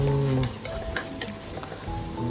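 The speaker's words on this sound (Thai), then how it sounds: "ต่อไปก็มาเจียวกระเทียม เจียวไฟอ่อนๆเหลือง" Garlic frying gently in oil over low heat for a cabbage stir-fry gives a steady, close sizzle broken by a few sharp clinks and scrapes of a utensil against the pan, with music playing underneath.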